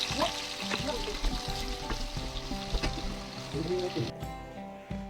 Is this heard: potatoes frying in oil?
yes